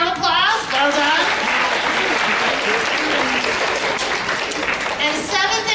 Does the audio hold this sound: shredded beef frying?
no